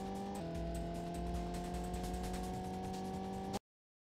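Racing car engines drone in an N64 racing game, a steady synthetic buzzing tone that steps up in pitch early on, holds for a few seconds and then cuts to silence.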